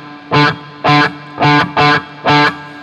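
Electric guitar played through a Zoom G2FOUR multi-effects unit with distortion and reverb, striking five loud, evenly spaced chord stabs, each ringing briefly and fading into a short reverb tail before the next.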